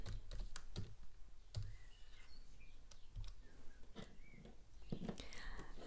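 Typing on a computer keyboard: a quick burst of clicky keystrokes, close and fairly quiet, with a few louder taps and brief pauses between runs of keys.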